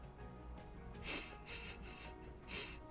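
A person imitates a polar bear sniffing around, making a short series of quiet breathy sniffs and snorts in irregular bursts, faint and close.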